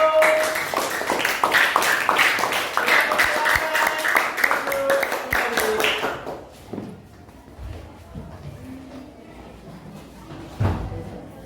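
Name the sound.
classroom applause for group 1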